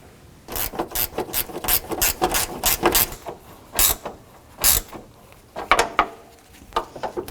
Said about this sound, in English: That is a 10mm socket or wrench.